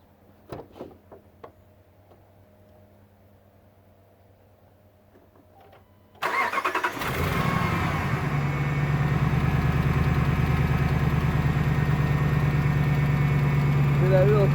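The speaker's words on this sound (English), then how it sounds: "I'm going to start it up so you can hear it." A car engine with 270,000 miles, just back together after an oil change, cranks and catches after a few quiet clicks and handling sounds, then settles into a steady, loud idle nearby.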